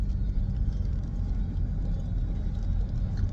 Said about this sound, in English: Taking a car ride